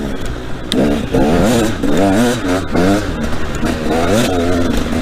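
A KTM 300 EXC two-stroke enduro motorcycle revs repeatedly in loud, close bursts, the engine note rising and falling in wavering sweeps with rattly clatter between throttle blips.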